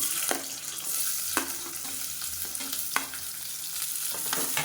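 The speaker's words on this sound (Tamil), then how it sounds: "இப்போ நல்லா வதக்கிக்கலாம்" Halved shallots frying in hot oil for mutton uppu kari, a dense close sizzle punctuated by repeated ladle scrapes and taps on the pan, no speech over it.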